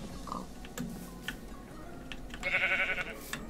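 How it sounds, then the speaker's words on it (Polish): A goat bleats once in a Minecraft survival modpack game, a short wavering cry midway through, set against faint in-game ticking and ambient clicks. "Głos kozy, te owce."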